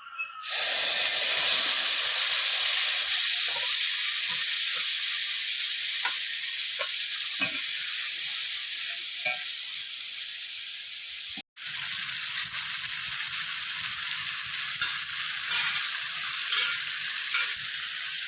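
Fish poured into hot oil spiced with whole garam masala, for a spicy fish curry, erupts in a loud, steady sizzle. Occasional spatula taps sound under it, with a brief break midway before the frying continues.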